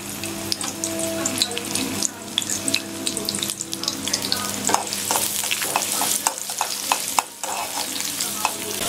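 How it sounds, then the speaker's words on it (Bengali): Chopped onion frying in soybean oil in a pan for a tempering over fish and spinach, a steady close sizzle with stirring scrapes and clinks throughout, no talking. "জাস্ট আমি পেঁয়াজ কুচি দিয়ে এটাকে বাগার দিয়ে দিব।"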